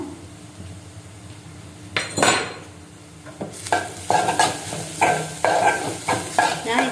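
A sugar and spice filling stirred in a pan with ghee for Kerala ilayada: a quiet start, then a loud scrape and a run of rhythmic spoon strokes against the metal with a light sizzle underneath.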